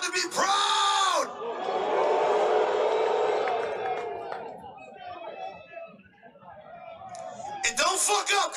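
Loud crowd of juggalos at a Lincoln Memorial march cheering and whooping in bursts, with chatter and shouts swelling and fading, strong yells near the start and end.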